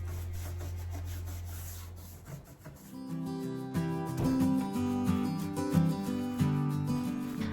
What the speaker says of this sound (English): I go back in with a rag and I buff it out